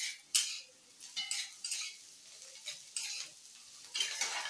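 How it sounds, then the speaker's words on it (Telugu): Thin slices of bitter gourd fry in a pan on medium flame, a soft sizzle under a run of scraping, clinking stirs of a utensil against the pan, uneven and close, with no talking. "మీడియం ఫ్లేమ్లో పెట్టుకొని మూత పెట్టేసి ఇవి గోల్డ్ కలర్ వచ్చేదాకా వేయించుకుందామండి"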